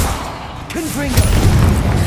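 Confringo blasting spell explosion in the Hogwarts Legacy video game, a deep booming burst that swells and rumbles for the last second, following a spoken voice, loud and close.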